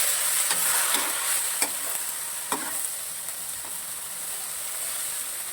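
Winged beans (kalamismis) fry in a pan with a steady hiss of sizzling oil, broken by a few sharp scrapes and clicks as the beans are stirred, close and fairly loud.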